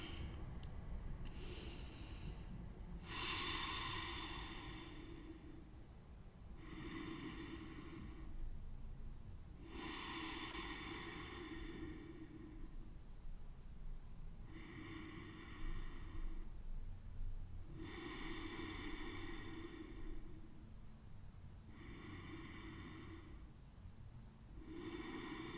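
Slow, steady breaths drawn in and let out during a morning vinyasa yoga class, each long inhale and exhale clearly audible and close, repeating in an even rhythm with no talking.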